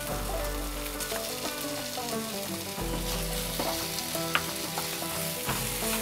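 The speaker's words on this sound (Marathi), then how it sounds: "आता ह्याच्यात आपण टोमॅटो घालूया।" Tomatoes fry with onion, ginger and garlic in a pan, giving a loud, steady, close sizzle with stirring throughout and a tune playing underneath.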